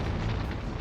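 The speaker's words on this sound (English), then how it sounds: "There are explosions on the sun." A loud, dense, sustained explosive roar, the sound effect of an explosion on the sun during a solar flare, filling the whole moment with steady rumbling noise and no pauses.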